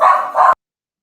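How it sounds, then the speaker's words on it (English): Pet dogs barking indoors during a phone or online conversation, two quick close barks in a row, loud and clear with no talking over them, then abrupt silence. "The audience they've heard my dogs plenty of times."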